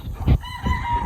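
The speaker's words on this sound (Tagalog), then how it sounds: "Tingnan po natin yung mga itsura ng mga manok." Chickens cluck inside an enclosed poultry house, with a rooster's crow rising over the flock in a loud, close burst.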